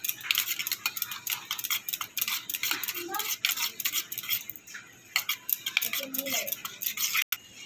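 Yogurt is whisked in a bowl for makhana raita, giving rapid, continuous scraping and clicking strokes close by, briefly pausing near the middle and ending with a sharp stop; no talking.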